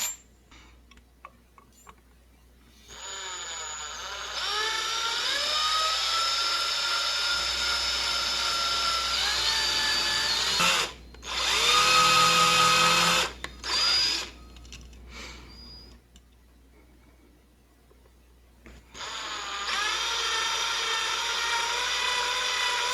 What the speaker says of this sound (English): First we're going to start off with a 2mm drill bit, and then work our way up to a 5mm